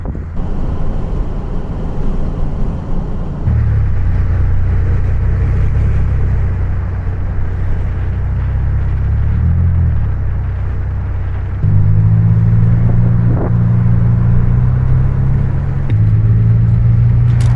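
Steady low rumble of a vehicle driving, with engine drone shifting pitch as it changes gear and some wind buffeting, no talking.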